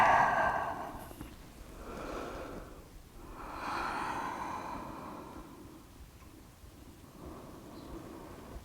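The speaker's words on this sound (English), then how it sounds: "And breathe." Slow, deep breathing during a yoga session, long drawn exhales and inhales rising and falling every couple of seconds, soft and close.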